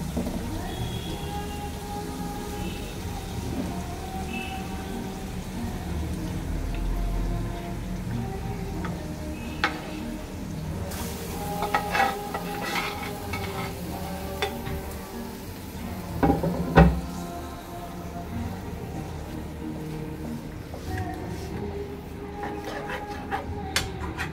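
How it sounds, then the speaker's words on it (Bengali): Whole Bombay duck fish fry over a high flame, a soft continuous sizzle with occasional clinks and scraping from stirring, one sharper clatter near the middle; no voices. "আর আমি গোটা গোটা লোটে মাছ দিয়ে দিচ্ছি। এটা খুব বেশি সময় লাগবে না, খুব বেশি হলে মানে হাই ফ্লেমে 10 মিনিট"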